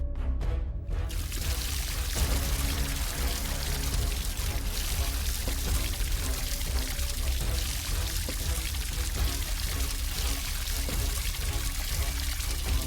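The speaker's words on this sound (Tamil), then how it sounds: "அந்த தண்ணி எடுத்து ஊத்து" Water is poured by hand in a steady, continuous stream with splashy trickling detail. It runs unbroken for several seconds over a low background hum.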